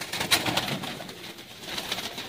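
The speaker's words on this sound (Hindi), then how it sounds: "ये जी 35 वाला कबूतर जनाब।" A Sialkoti 35-type pigeon coos softly nearby in a few short rounded calls, with light ambient noise and no talking.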